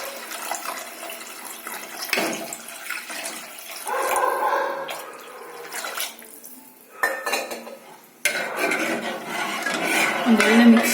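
Water poured into a pot of oil-fried rasam spices: clattering of kitchen vessels and utensils followed by a splashing pour of water, close and fairly loud.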